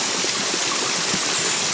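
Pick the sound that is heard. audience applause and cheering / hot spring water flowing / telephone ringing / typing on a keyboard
hot spring water flowing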